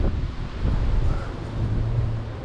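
Wind rushing steadily past a microphone just after a dust cloud has gone by, a loud low buffeting roar that swells and eases without pause.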